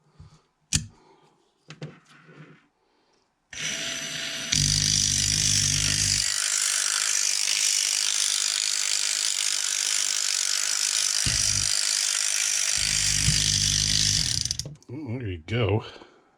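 A vintage Skil 2238 battery ratchet, revived after long disuse, runs with a steady mechanical whir for about eleven seconds, close and loud. Someone talks briefly before it and again as it winds down.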